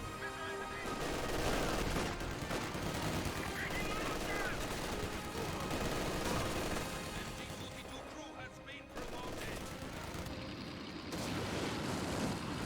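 Vickers machine-gun fire in the World War II strategy game Company of Heroes 2, amid a dense continuous din of battle with other gunfire and explosions, while a commentator talks over it.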